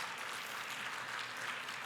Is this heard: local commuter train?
no